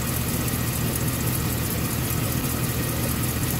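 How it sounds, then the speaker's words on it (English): A pickup truck with 500,000 miles idles right after an oil change and new FRAM oil filter, a close, steady low rumble with an even mechanical drone that holds unbroken and alone throughout. "Listen to that engine purr."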